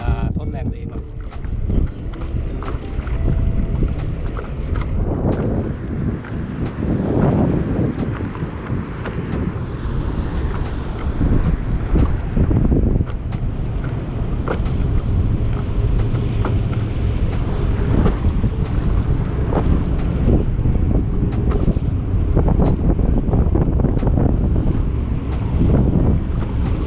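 A stand-up paddleboard is paddled against the current at sea in strong wind, with steady wind buffeting and water splashing around rhythmic paddle strokes while someone talks throughout.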